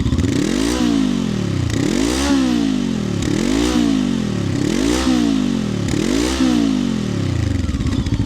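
A Voge AC525X Scrambler motorcycle engine revs hard through its raised 2-into-1 exhaust in repeated rising and falling surges, loud and close, about six times in a steady rhythm.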